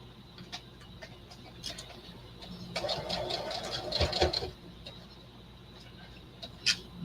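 A sewing machine back stitches at the edge of a fabric tote bag, a short run of rapid mechanical stitching rising mid-clip amid faint ticks and handling sounds, close and moderately loud.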